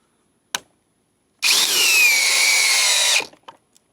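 A Metabo HPT DV36DC cordless drill whirs up after a single click and runs at speed 2 for nearly two seconds with a high steady whine, then spins down, close and loud with no talk.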